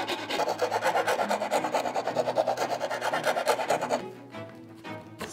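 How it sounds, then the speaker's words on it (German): A slightly tight-fitting part is sanded down by hand in quick, rhythmic rasping strokes that run steadily for about four seconds, then stop, leaving a few lighter scrapes. "Schleifen wir kurz ab."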